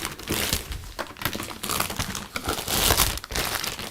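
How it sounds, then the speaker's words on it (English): Crinkly plastic packaging of a Cricut Maker rustling and crackling up close, a steady run of crumpling noises with small sharp punctures and tears from scissors mixed in. "scissors to puncture the plastic."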